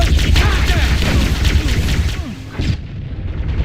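A frag grenade explodes in the game Halo: Combat Evolved, a loud booming blast with crackling debris that fades over a few seconds amid battle noise and shouted voices.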